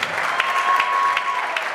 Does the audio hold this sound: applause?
yes